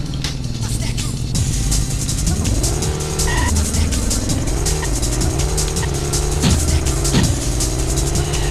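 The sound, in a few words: car driving in a retro racing video game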